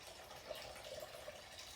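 Water pours steadily into a container resting on a kitchen scale while sourdough is being made, a soft continuous gushing and trickling that stays fairly quiet and close throughout.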